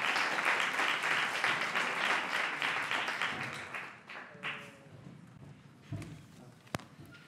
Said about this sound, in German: Großen Applaus, bitte.